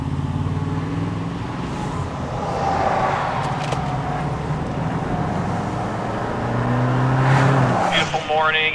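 Commando off-road vehicle engine running on a morning on Michigan's Keweenaw Peninsula, a steady droning hum with shifting harmonics, held at a constant level under a voice speaking throughout.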